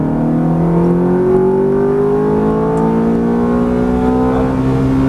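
Ferrari F430 engine pulling hard under throttle on a Las Vegas race track, a loud continuous roar rising steadily in pitch as revs climb, close and unbroken throughout.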